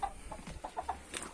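Aseel roosters, a cock with his harem of hens, cluck in short repeated bursts at close range, with several birds overlapping in a busy, uneven rhythm.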